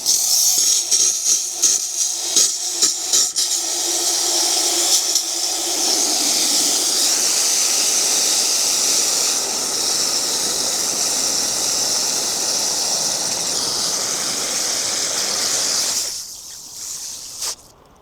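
A garden hose sprays water hard into a bucket outdoors, a loud continuous hiss and rush that holds steady for about ten seconds before cutting off, with some clattering and handling sounds at the start.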